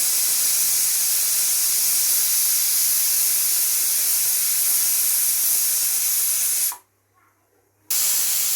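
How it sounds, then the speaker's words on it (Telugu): A pressure cooker cooking chicken pulao whistles with a loud, continuous high hiss that cuts off abruptly for about a second, then starts up again. "రెండు విజిల్స్ అయితే వచ్చినాయండి"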